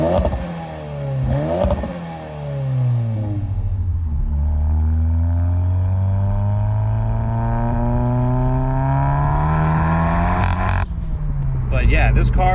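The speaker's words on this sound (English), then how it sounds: "I got the windows down to hopefully try to showcase the exhaust on this car" A big-turbo VW Golf GTI with a 2-liter engine making 450 wheel horsepower pulls along with rising and falling exhaust drone through open windows, shifting gears as the pitch climbs again and again.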